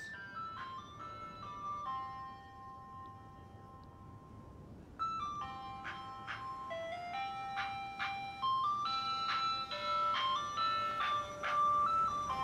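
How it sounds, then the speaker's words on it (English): In the Giraffe Town video game, an ice cream truck drives past playing its chiming melody, quiet at first and then growing louder and fuller over a low vehicle rumble. "it looks like the ice cream truck went past us"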